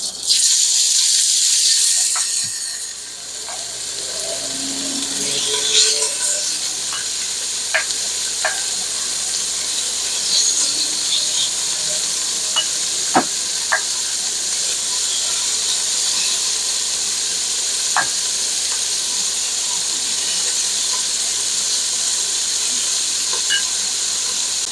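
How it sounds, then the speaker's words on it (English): Beef chunks sear in a hot pan for chile colorado, a loud, continuous sizzle with scattered sharp pops and crackles, close and steady throughout with no talking. "I'm going to add my meat in batches because we don't, again, overcrowding your pan is going to not facilitate the browning"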